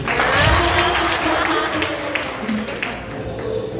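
A church congregation breaks into a broad, dense round of applause during a sermon. The clapping fills the space from start to finish, with voices mixed in.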